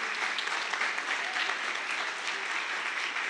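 A church congregation applauds in a dense, continuous wash of clapping that stays loud and steady for over three seconds before cutting off abruptly.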